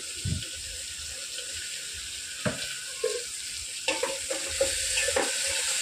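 Semolina and other ingredients fry in a pan with a low sizzle, broken by a few sharp scrapes and knocks of a spoon stirring nearby.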